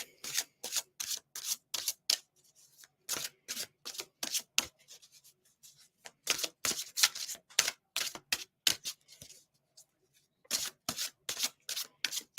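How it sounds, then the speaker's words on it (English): A deck of cards being shuffled repeatedly up close, with quick bursts of riffling and rubbing separated by brief pauses in an irregular rhythm; fairly quiet, with no talk. "I'm really shuffling these up today."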